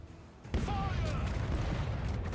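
Ship cannons firing a broadside in the Rogue Waters pirate game, a sudden heavy burst that settles into dense, rumbling continuous fire and booming, with some voice underneath.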